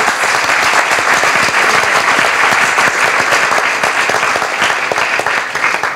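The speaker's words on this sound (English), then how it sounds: "I think that deserves recognition and applause" Audience applause at a closing panel discussion of a 2018 conference: dense, steady clapping from a large crowd, loud and close, sustained without a break for the full stretch.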